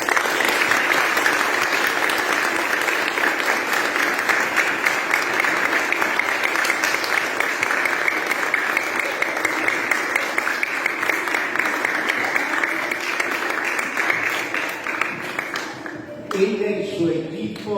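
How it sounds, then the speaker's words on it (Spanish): A large audience at a book fair event in Empedrado claps loudly and steadily for the organiser for about sixteen seconds, a dense, even roar of hands that stops abruptly as a voice starts speaking. "Quiero un aplauso grande"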